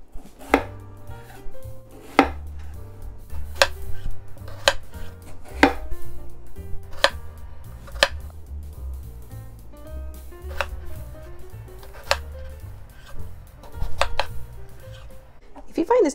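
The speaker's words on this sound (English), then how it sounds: "now to demonstrate how to cut into chunks, I'm going to cut this half a little thicker" A knife chops through cantaloupe, cutting a half into thick chunks of about half an inch on a cutting board: a dozen or so crisp, close, sharp knocks at an uneven pace over low background hum, with no talking.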